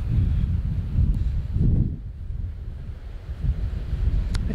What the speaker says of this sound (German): Und es ist immer noch windig.